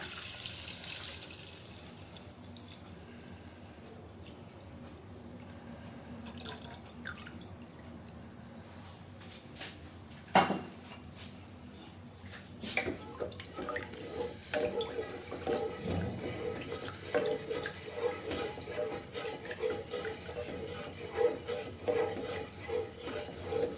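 Milk thinned with water and sweetened with sugar is poured into a pot for semolina porridge (tharikkanji). Quiet drips come first, then a steadier liquid splashing from about halfway through, with no talking.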